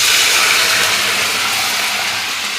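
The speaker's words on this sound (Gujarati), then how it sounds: "હવે મરચાં તેલમાં નાખી" Green chilies and curry leaves frying in hot oil for sandwich dhokla tempering give a loud, steady broadband sizzle that holds close and even throughout, with no voices.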